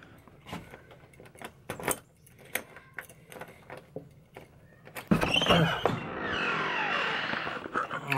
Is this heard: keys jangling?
yes